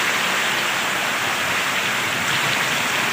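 Heavy rain pours down on fields in Junagadh district, Gujarat, a dense, continuous hiss-roar that stays loud and even throughout, with no talk.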